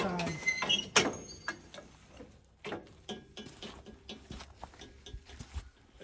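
The log deck of a portable sawmill is lifted on both sides for transport, producing a quiet series of irregular metallic clicks, clanks and ratcheting knocks at close range.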